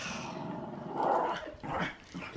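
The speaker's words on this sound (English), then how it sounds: "He's gonna bark" A dog gives a low, rumbling growl that swells for about a second, close and fairly quiet, with no one talking.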